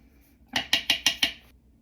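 A utensil pressing and mashing lumpy baking powder in a bowl, five evenly spaced clinking, scraping strokes in quick succession, close and fairly loud, with no voices.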